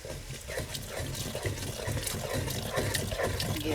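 Water poured into a cooking pot while making cottage pie, a soft continuous splashing and trickling with faint clinks, fairly quiet and close, no talking.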